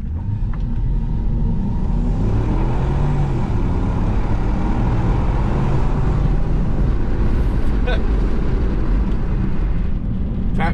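Porsche Cayenne Turbo 955 V8 engine pulls hard at full throttle from inside the cabin, a loud, continuous low roar with rising tone that holds throughout, with faint road noise and no speech.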